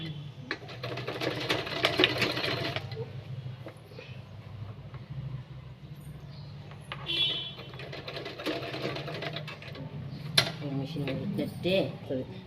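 A sewing machine stitches the hem of a frock, running in a loud, steady mechanical whir with rapid needle chatter that surges and eases in bursts, while a voice talks over it at times.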